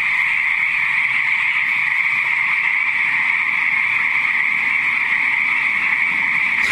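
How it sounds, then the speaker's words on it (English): Frogs croak continuously in a steady, dense chorus recorded on an iPhone in a valley, a bright sustained trill filling the whole stretch with no talking. "it is of some frogs making their beautiful music"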